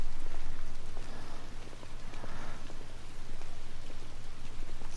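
Steady rain falls with a dense, even hiss inside a building in the video game The Order: 1886, at moderate level and with no voices.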